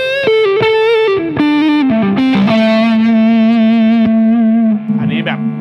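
Yamaha Revstar electric guitar played through an overdrive tone, a short run of distorted single notes and sustained bends, loud and close, with a brief scrape at the end.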